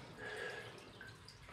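Water drips into an old trough, a soft, quiet patter of small drops lasting a moment with no talk over it.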